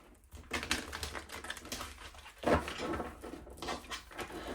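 Tarot cards shuffled by hand in a quiet room, producing soft, quick riffling and tapping bursts with one sharper slap midway, faint and close with no talking.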